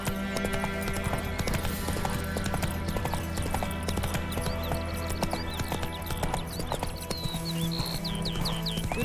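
The horse Roach gallops in The Witcher 3, hooves clip-clopping in a steady, fast rhythm, loud and close over a constant background of game music and ambience.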